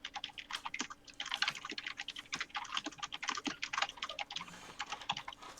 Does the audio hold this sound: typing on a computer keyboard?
yes